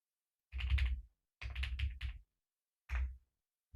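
Bursts of keystrokes on a computer keyboard at a new PC rig build desk, three short clusters of rapid tapping separated by pauses, close and fairly quiet with no talk.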